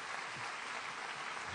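Distant, faint applause from a theatre audience at Ambra Jovinelli during a political speech, a steady wash of clapping offered in place of a minute of silence.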